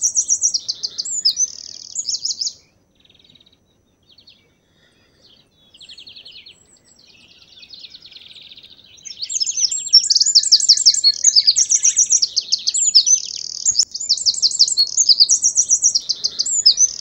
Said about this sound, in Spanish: Vamos a escuchar a otra ave.